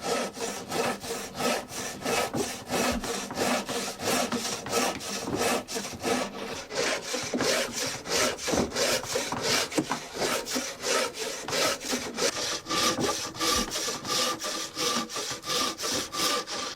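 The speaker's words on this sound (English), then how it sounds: "cut with a frame saw that has been lubricated with grease" A grease-lubricated frame saw cuts through wood in steady, rhythmic back-and-forth strokes, each pass a rasping scrape, close and continuous with no talking.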